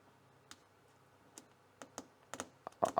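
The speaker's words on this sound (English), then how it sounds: "peel off these little" Small protective tags being peeled off an ESP32-P4 function evaluation board display, heard as a series of sharp little clicks and ticks that grow closer together and louder toward the end, alone with no talk.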